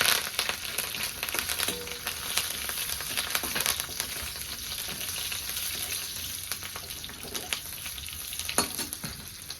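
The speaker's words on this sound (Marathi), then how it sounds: "तेल ठेवले जिरे मोहरी टाकले" Cumin and mustard seeds sizzle and crackle steadily in hot oil for a tempering, a dense continuous fizz close by with occasional sharper pops.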